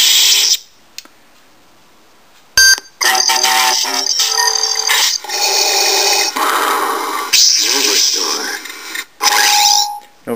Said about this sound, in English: It's sort of the straightforward ignition de-ignition that you hear in most Star Wars films.